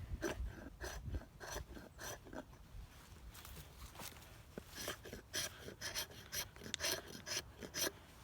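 Knife spine scraped along wood to raise shavings and curls: repeated close, rasping strokes in a steady back-and-forth rhythm, fairly quiet, with no talk.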